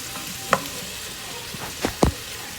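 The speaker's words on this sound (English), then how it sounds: "I'm going to give it all a nice stir, incorporate everything together" Vegetables and pepper are stirred in a sizzling pan, with a low steady fry hiss broken by a few distinct spoon scrapes and knocks against the pan.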